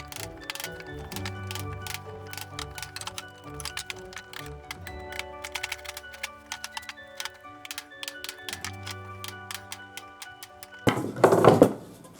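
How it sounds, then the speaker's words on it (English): A chisel struck with a mallet cuts out wood on a medieval armour stand build, giving repeated sharp knocks in uneven clusters, close and moderately loud, with a denser burst of scraping near the end. "I'll chisel out the rest."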